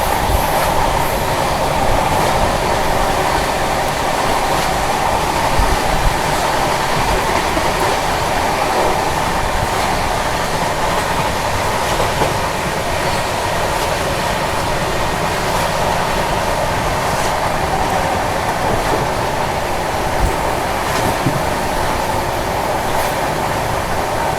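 The Mumbai Rajdhani Express runs through Kasara Ghat, a steady loud rumble of rail wheels and carriage noise with faint clatter and occasional squeal, continuous and close from inside the train.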